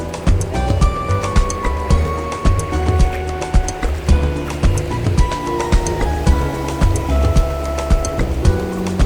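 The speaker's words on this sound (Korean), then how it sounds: "저기 파도가 저까지 오는데 저기는 파도가 저기까지 와" Surf rolling in at a Korean beach, Sampo, a steady wash under strong tonal noise and sharp repeated clicks, close and loud throughout.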